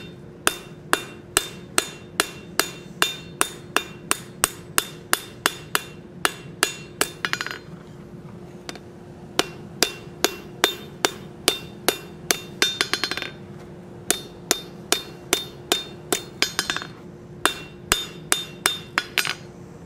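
Steady hammer blows ring out on a forged gothic-style bottle opener being shaped on an anvil, sharp metallic strikes in quick even runs with short pauses and occasional rapid flurries, heard alone with no talk.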